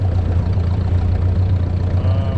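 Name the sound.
tractor engine running while hitching wagon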